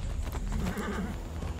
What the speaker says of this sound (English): We're taking horses. That's a good horse.